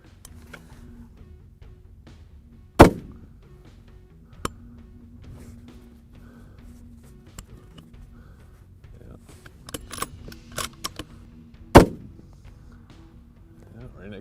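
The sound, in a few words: rifle shots fired from the custom-built Pilum T-1 rifle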